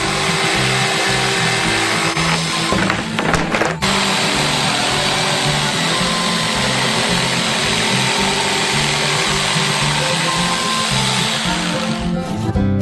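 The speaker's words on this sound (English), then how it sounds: "Now we just need to cut it out with an electric jigsaw." An electric jigsaw cuts a drawn shape out of a sheet, giving a loud, steady buzzing drone that runs nearly the whole time, with a short break in the cutting near the start.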